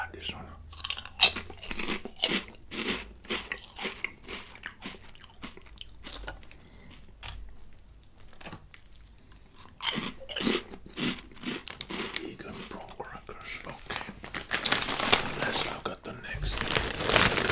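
Healthy chips are bitten and chewed right at the microphone, giving loud crisp crunches in bursts with brief quieter pauses, some crinkling, and a soft voice in places.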